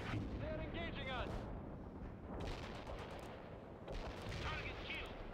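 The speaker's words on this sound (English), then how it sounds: "Artillery strike is inbound." A World in Conflict artillery strike in a Soviet assault battle pounds the area with repeated heavy booms and rumbling blasts, while radio voices talk over the gunfire.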